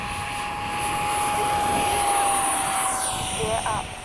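An FMS 70mm F/A-18 RC jet takes off, its electric ducted fan whining steadily and rising in pitch, then sweeping past with a brief Doppler drop near the end, heard from moderately close under outdoor ambience.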